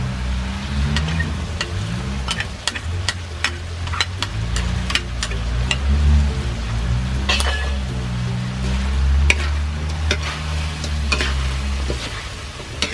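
Frog stir-fried with lemongrass and turmeric sizzles steadily in a hot pan, with repeated scraping and clinking of a spatula as the pieces are tossed, close and continuous with no talking.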